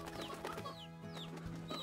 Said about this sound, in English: Let me just go and get you a couple of chickens.